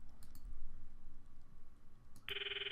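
A phone in use in the Steins;Gate visual novel: faint soft clicks and button taps over a quiet background, then a bright, steady electronic ringing tone starts near the end.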